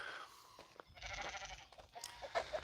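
Sheep bleating on a small farm with a flock of about 23, several short, wavering bleats close by amid rustling and shuffling movement, fairly quiet overall.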